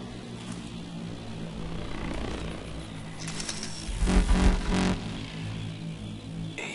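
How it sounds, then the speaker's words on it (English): A helicopter in the Call of Duty Advanced Warfare game, heard as a steady rotor and engine drone with a brief louder thumping swell as it moves off, alone with no talk. "Chopper's moving off."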